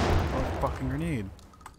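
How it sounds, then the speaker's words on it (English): A grenade explodes in Max Payne with a heavy, close boom right at the start that quickly fades, and a voice follows. "Oh, fucking grenade."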